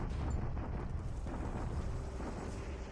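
Heavy artillery bombardment in the War in the Pacific strategy game, a continuous dense rumble of distant explosions that rolls on without a break, low and heavy, with no speech over it.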